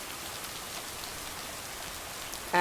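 Steady rain falls throughout a scene in the video game Lake, an even hiss of drops on surfaces with no voices.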